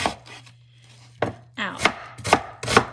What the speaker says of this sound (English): Normally I cut onions much faster